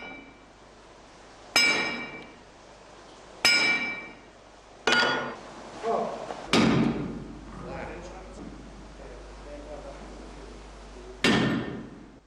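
Heavy metal impacts ring out as iron wedges are driven with a ram into the head of a water-powered trip hammer at a traditional ironworks, with about five loud, spaced blows and faint speech between them.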